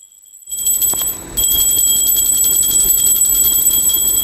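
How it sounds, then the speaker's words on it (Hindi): A small brass puja bell for worship rings with bright, high, sustained metallic tones, struck once and then shaken into a continuous close ringing that fills the clip without speech. "ये घंटी की इसकी आवाज मेरे को इतनी अच्छी लगी चीकू, ये देखो छोटी सी घंटी भगवान जी की"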